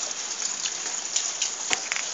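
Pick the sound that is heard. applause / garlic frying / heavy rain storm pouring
heavy rain storm pouring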